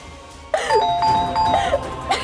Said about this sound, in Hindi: घंटी कौन बजा रहा है?